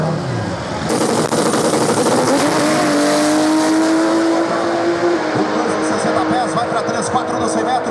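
Chevrolet Opala drag car roars down a quarter-mile strip, its loud engine note climbing steadily in pitch through the run, with a commentator talking continuously over it.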